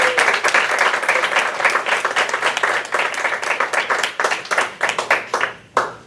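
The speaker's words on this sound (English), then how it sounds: "may I please actually give a round of applause for all of us" An audience at a speech contest meeting gives a round of applause, dense and steady at first, then thinning into separate claps that fade out near the end.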